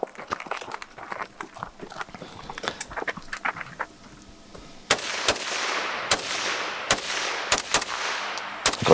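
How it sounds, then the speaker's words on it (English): Sharp, loud shots at reactive targets during a two-gun shooting competition, at first an irregular scatter of cracks, then after a pause a steady cadence of about six spaced blasts, each with a long ringing tail. "I just had to shoot 2 reactive targets."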